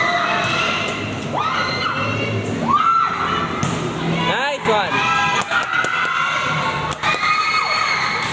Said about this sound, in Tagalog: Nakakakaba naman tong mga sigaw nila.